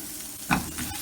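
Garlic chicken ingredients sautéing in a pan, with a brief sizzle and one sharp stirring scrape near the middle of a short, close stretch.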